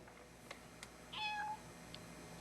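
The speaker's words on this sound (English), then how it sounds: "When did we get a cat?" A single short cat meow sounds alone against a faint, quiet background, with a few soft clicks before it and no talking.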